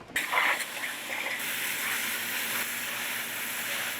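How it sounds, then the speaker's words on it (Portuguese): An oyster and shellfish washing machine sprays water over seaweed, a loud, constant hissing gush following a brief clatter at the start, steady throughout. "a gente vai lavar ela na máquina, que é uma máquina de lavar ostra e marisco, e ela consegue lavar a alga também"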